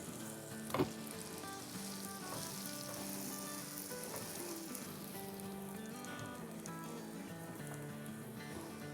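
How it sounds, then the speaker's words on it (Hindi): Pav buns toast in butter on a hot pan, giving a steady soft sizzle and crackle throughout with one brief clatter near the start; no one talks. "ये बन को हम जो पाव हैं उसको सेक लेंगे"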